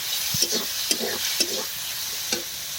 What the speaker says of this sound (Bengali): লবণ দিয়ে টমেটো টমেটো ভালো করে কষিয়ে নেব